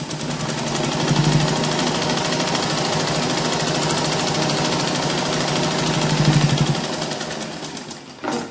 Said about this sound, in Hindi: अब एकदम किनारे पर सिलाई लगानी है इस तरह से